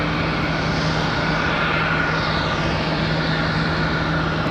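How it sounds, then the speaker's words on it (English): A Piedmont Airlines airliner departs Charlotte Douglas for Chattanooga, Tennessee, its jet engines producing a loud, sustained roar with a steady hum underneath, close and continuous. "This departure that's happening behind us right now is off to Chattanooga, Tennessee."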